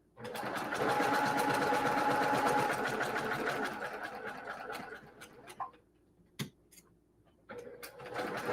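A domestic sewing machine runs steadily for about five seconds stitching the final seam of a quilt block, then stops; a few clicks and brief handling noises follow before the motor starts up again near the end.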